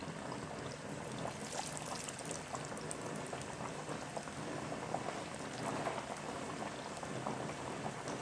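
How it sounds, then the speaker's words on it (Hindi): Coated chicken zinger pieces deep fry in hot oil in a kadhai, a dense, even bubbling hiss like rain that runs steadily at moderate volume without a break. "इसको हम लोग डीप फ्राई करेंगे।"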